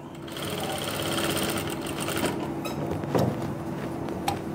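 A sewing machine stitches close along buckram at the root of the seam for a clean finish, its steady rapid mechanical whir running continuously at moderate volume with a few small clicks and knocks, no talking.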